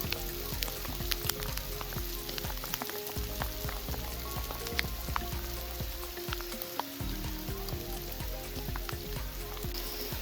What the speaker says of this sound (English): Hailing on me now.